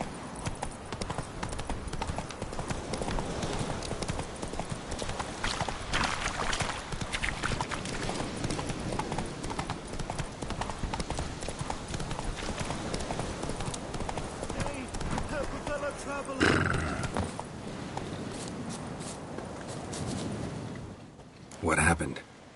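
Roach, the horse in The Witcher 3, gallops with rapid rhythmic hoof clops under speech, punctuated near the end by a couple of louder thumps.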